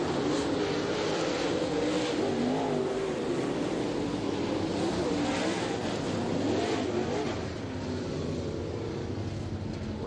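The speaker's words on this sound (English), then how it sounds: "we are in Group 4 hot laps with the Lucas Oil Late Model Dirt Series and the Comp Cam Super Dirt Series" Dirt late model race cars running hot laps at Batesville Motor Speedway, a dense continuous roar of several engines revving and sweeping around the track, loud and sustained with rising and falling pitch.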